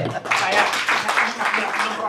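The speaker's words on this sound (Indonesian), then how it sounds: "Tepuk tangan untuk Prof." Audience applause for a professor at an academic debate event on legal scholarship, a dense wash of clapping over about two seconds with voices mixed in.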